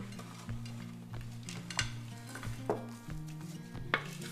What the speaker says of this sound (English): I'm just gonna roll it into the pan